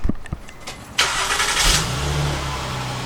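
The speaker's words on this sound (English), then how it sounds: "Let me give you a cold start and we'll see if it cranks a whole bunch." Procharged 426 Scat Pack engine cranks briefly on a cold start, then fires and settles into a loud, steady idle close by.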